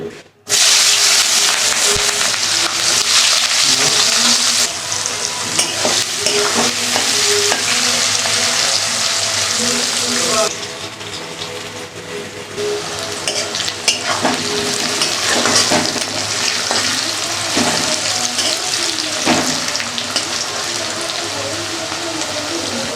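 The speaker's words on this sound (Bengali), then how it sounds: "এই তেলের মধ্যে আমি পেঁয়াজের বেরাস্তা বানিয়ে ভেজে রাখবো" Sliced onions fry in a wok of oil for biryani beresta, a loud, dense, steady sizzle close up with frequent scraping stirs that briefly soften midway.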